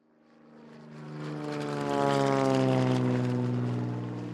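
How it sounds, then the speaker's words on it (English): A small propeller plane flies past, its droning engine hum swelling from faint to loud and holding steady near the end. "GB, pilot of a small plane"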